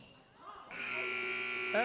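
A basketball game buzzer sounds at the end of a high school boys' game in a gym, a steady loud electronic tone after a commentator's talk, with a brief squeak near the end.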